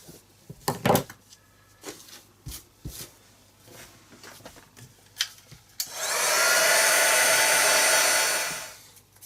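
A hair dryer blows steadily for about three seconds to dry paint on an art project, loud and close, starting and stopping cleanly after some quiet handling and tidying clatter.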